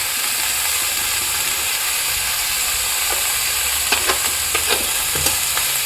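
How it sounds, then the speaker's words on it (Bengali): Spice paste of ground ginger, chilli and cumin frying in a pan, a steady loud sizzle with brief scraping stir clicks near the end, no voices. "দিয়ে এবার মশলাগুলো দিয়ে ভালো করে কষিয়ে নেব"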